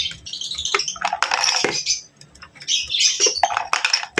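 A toy bird drops three metal bottle caps into a trash bin. Bright metallic clinks and rattles come in bursts, mixed with chirping bird sounds, close and fairly loud.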